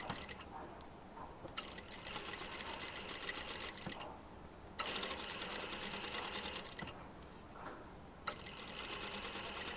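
Sewing machine stitching a double French bind on fabric, a rapid mechanical whir in bursts of several seconds separated by brief pauses, close and moderately quiet, no voices.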